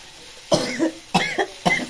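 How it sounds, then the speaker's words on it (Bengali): A person coughing close by, three separate harsh bursts, each followed by a quick second hack, with quiet gaps between them. "আমার কি কাশি হয়েছে জানে"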